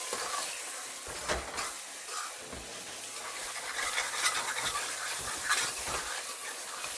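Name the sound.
kidney beans (rajma) added to a hot kadhai, sizzling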